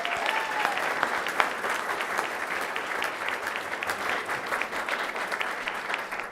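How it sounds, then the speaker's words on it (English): An open-house crowd gathered for a painting unveiling claps for a community member, a dense, fairly close round of applause with sharper individual claps standing out, holding steady across the stretch. "Charlie, let's give you another round of applause."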